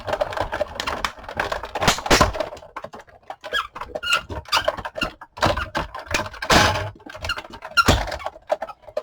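A paper die-cutting machine cranks a cutting plate through, giving a rapid series of clicking, ratcheting and squeaking sounds with short pauses, close and fairly loud, without speech.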